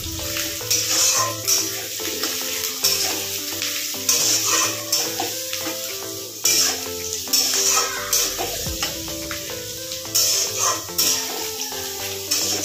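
Onion and grated garlic fry in a pan with a continuous close sizzle, broken by repeated clattering stirs and scrapes at an uneven rhythm.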